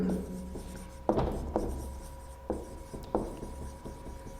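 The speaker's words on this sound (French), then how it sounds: "je vais écrire maintenant la loi des nœuds au niveau du point A" Writing out a physics equation by hand on a board or paper, with scratchy strokes and several sharp taps over a steady background hum, close and continuous with no talking.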